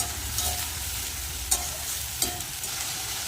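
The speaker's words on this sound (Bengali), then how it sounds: "পেঁয়াজ আর রসুন বাটা মশলাটা ভালো করে কষিয়ে নেব" Onion and garlic paste masala frying in a pan while being stirred, a constant close sizzle with a couple of brief scraping knocks from the spatula.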